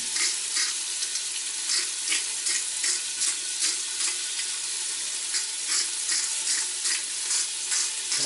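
Pork chops sizzle in a pan with a tablespoon of oil, a loud continuous crackling fry with rhythmic pulses of spattering, heard alone without talk.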